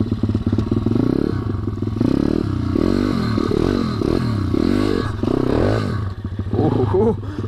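A Stomp Z2-140 Limited Edition pit bike engine running close by and loud, revving up and down repeatedly with some clattering.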